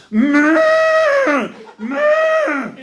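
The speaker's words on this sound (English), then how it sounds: "Listen to these nervous, unrelaxed, schizophrenic cows." Two drawn-out, wavering moos from Hereford cows, the first longer and rising, the second shorter, loud and close with a brief pause between.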